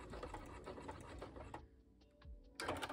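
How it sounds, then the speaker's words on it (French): A domestic sewing machine sews a button onto a blouse with a zigzag stitch, running in steady rapid bursts, then pausing briefly with faint clicks before the motor whirs up loudly again. "Voilà mon petit bouton qui est cousu à la machine."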